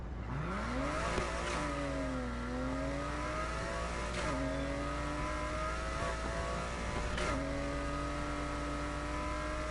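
A fast car's engine in a PS4 racing game revs loudly, climbing and dropping in pitch through repeated gear shifts, a continuous high-revving whine with no speech over it.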